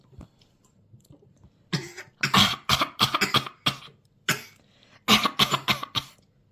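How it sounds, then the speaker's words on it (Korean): Repeated close coughing in several bursts, each a quick cluster of sharp hacks separated by short pauses, in a quiet room. "기침해요?"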